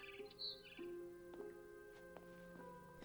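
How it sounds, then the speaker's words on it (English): A barn swallow chirps outside a window in the game What Remains of Edith Finch, a few short, high chirps over a quiet room tone with faint sustained tones underneath. "Then I heard chirping outside my window. It was a barn swallow going back to her nest."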